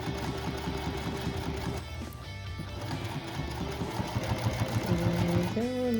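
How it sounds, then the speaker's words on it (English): A sewing machine back stitches a vinyl pouch, giving a rapid mechanical whirring and ticking in bursts with a short pause and changes in speed, close by, with a motor whine rising near the end. "I'm going to do a little bit of back stitching."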